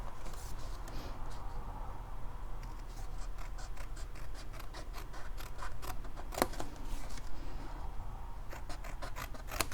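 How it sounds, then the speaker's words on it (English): Scissors snip out the corner rectangles of a paper Halloween treat box, a series of quiet, crisp cuts in irregular bursts over faint background hiss. "then cut out the 4 rectangles in the upper left and upper right corners"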